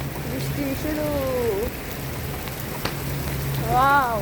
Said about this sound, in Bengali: ওয়াও, অনেক জোরে জোরে বৃষ্টি পড়তেছে।